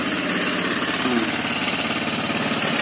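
A Honda Vario 125 fuel-injected scooter with a rough-running engine and a radiator spraying coolant idles close by, a steady low vibrating drone with no talk.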